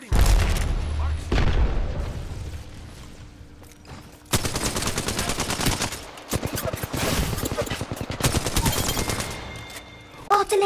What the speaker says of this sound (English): The enemies are shooting.